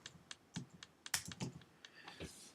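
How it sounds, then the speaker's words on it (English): Keys on a computer keyboard tapped out in a quick irregular burst to enter a name, crisp clicks close up with no talking. "So I'll just type in my name real quick."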